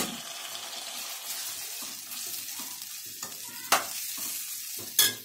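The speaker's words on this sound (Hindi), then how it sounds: "अब ये हमारा मसाला पक चुका है। अब इसके अंदर हम टमाटर डालेंगे," Tomatoes tipped into spiced masala cooking in a pan give a steady close sizzle and frying crackle, with two sharp splashy bursts near the end as they hit the hot oil.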